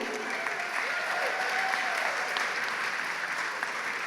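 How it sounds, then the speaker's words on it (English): An audience claps for a speaker at an ecological restoration event, a sustained, even wash of applause at close range with a few voices faintly mixed in. "big round of applause for Michael"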